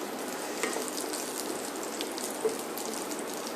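Green chilies sizzling in a hot pan, a steady, dense crackling fry that holds evenly throughout with a few small pops, no voices.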